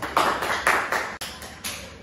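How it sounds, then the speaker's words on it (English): A handful of sharp claps, about six, spaced unevenly across two seconds, close and fairly loud in a quiet classroom during a micro-teaching session. "Applause."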